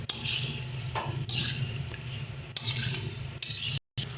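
Tomato, onion and spices being sautéed in a pan for a Lotte fish and radish curry, a steady scraping, rasping stir with soft sizzling, close and continuous with brief pauses.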